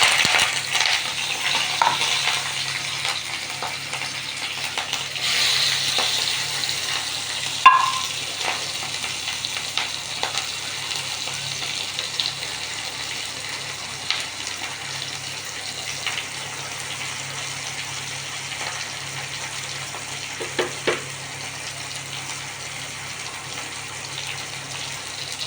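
Crushed shallots, curry leaves, ginger and garlic fry in oil for a special avoli fish curry, a steady close sizzle with occasional clinks of a utensil against the pan.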